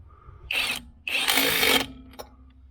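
A battery-powered drill tightens a fastener while refitting the interior of a 1978 V8 Nova: two close whirring bursts, the second longer, then a brief click.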